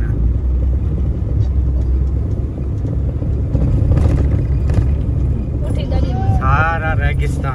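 Car driving on a rough, damaged road through sandy desert, a loud continuous rumble with bumps and road noise, and a voice speaking over it near the end.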